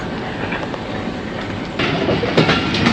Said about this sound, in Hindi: ज़बरदस्त सा क्रॉस हुआ खारियाँ छावनी पर और रवाना हुई है ट्रेन।